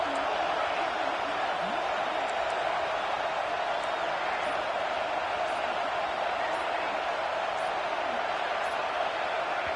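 Steady stadium crowd roar in the NCAA 26 college football video game, Auburn versus LSU, a dense continuous wash of distant voices holding level for the whole stretch with no one speaking over it.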